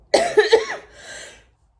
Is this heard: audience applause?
no